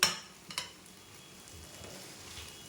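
Tomato chutney with grated coconut is stirred in a pan, a soft sizzle under a few clinks of a spoon against the metal at the start, then quieter scraping.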